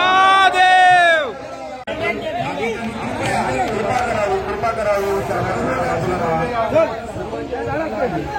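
A dense crowd gathered at a Konkan temple restoration festival for the Sapatnath temple fills the air with continuous babble and overlapping voices, close and loud, with a brief sharp vocal cry at the start.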